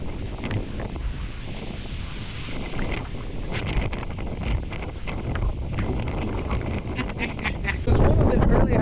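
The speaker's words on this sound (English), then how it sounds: "Not sure you can hear me, it is blustery here today." Strong wind buffets the microphone on a blustery day outdoors in Nova Scotia, a steady loud roar with gusting rumble throughout, no clear speech over it.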